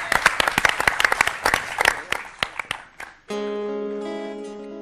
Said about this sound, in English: Can we have a massive round of applause for Susan Black?